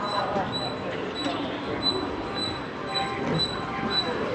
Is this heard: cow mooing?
no